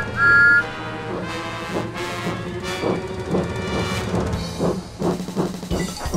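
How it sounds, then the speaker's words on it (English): A short, sharp railway guard's whistle blast at the very start, loud and high-pitched, followed by rhythmic chugging and clanking of a steam engine with music underneath. "The passengers got on board quickly, the guard blew his whistle, and Thomas scurried heavily away."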